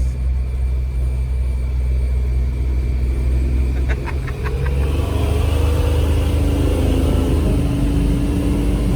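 A ramp truck fitted with a blower does a burnout, its engine rumbling loud and close, then climbing into a rising rev with a few sharp rattles and squeals partway through.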